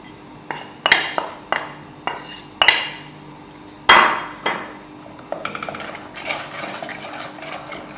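Masala for a beef kofta gravy is stirred and fried in a pan, heard as a series of sharp metal spoon knocks and scrapes against the pan, then a softer rapid clatter near the end.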